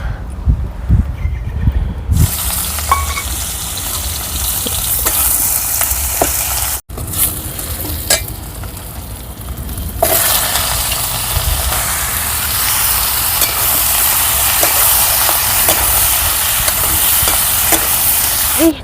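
Tempering frying in a wok while cooking, a continuous loud sizzle with stirring scrapes and clatter throughout, briefly cut off once before resuming stronger.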